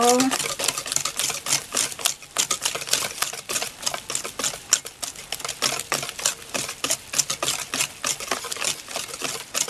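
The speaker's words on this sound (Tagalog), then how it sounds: "haluin po natin. Mix natin ito" A utensil stirs and whisks egg custard pie filling in a bowl with rapid, continuous clattering taps, close and fairly loud.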